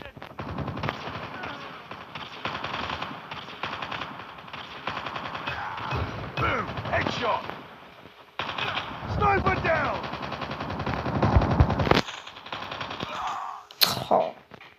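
Gunfire in a French online shooter game, a pistol chosen over flamethrower and rocket launcher, with dense rapid bursts of shots and crackling effects, alongside game sounds and voices talking over it.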